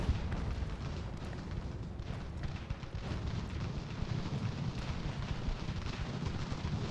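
Battlefield volleys of muskets and booming cannon from Ultimate General: American Revolution, a continuous distant rumble of shots and explosions at steady low level with scattered sharper cracks throughout.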